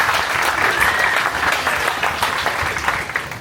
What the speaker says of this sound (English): If we could give another round of applause for Ken and Lindsay.